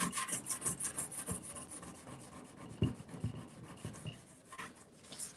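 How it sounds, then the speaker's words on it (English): Cloth rubbing and wiping across an old wooden furniture piece during prep, a close, uneven scrubbing rhythm with light scuffs and a firmer knock midway, no talk. "And so we're just going to wipe this down all over really quickly."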